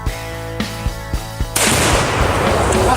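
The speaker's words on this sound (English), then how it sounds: "This next one is a Dell desktop, again with about a pound of explosives in it." About a pound of explosives detonates inside a Dell desktop computer outdoors in the woods. Several sharp thuds are followed by a sudden loud, sustained roaring blast.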